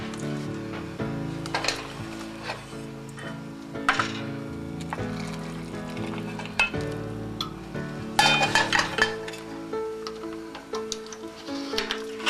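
Kasha stirred in a pan with liquid beef bouillon, producing gentle sizzling with scattered clinks and scrapes of a utensil against metal, close and moderately loud.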